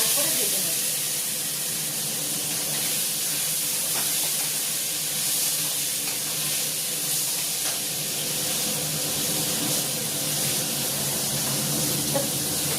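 Green beans and potatoes fry in hot oil with tempered whole spices, giving a steady, close sizzling hiss that holds evenly throughout with no clear pauses.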